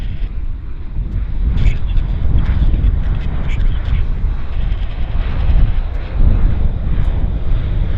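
An Air North airplane rolling on the runway for takeoff at Vancouver Airport, a loud steady engine roar with wind buffeting, while a person talks over it.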